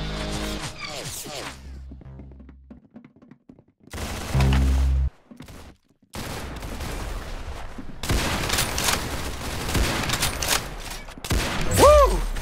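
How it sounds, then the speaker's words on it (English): Rapid gunfire bursts from a mobile shooter game come in separate loud stretches with gaps of near-silence between them. Other game effects mix in, and no voice is heard. "Very good shooting."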